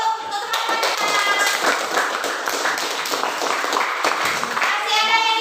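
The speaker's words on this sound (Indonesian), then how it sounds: "Kasih aplaus dulu untuk teman-teman kita" Classroom applause for classmates after a group presentation, many hands clapping steadily and fairly close for several seconds, with children's voices mixed in.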